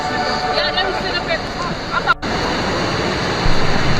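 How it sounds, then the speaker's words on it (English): Waterfall roaring as a continuous broadband wash of water close by, with muffled voices faintly mixed under the steady rush. "I'm going through the waterfall."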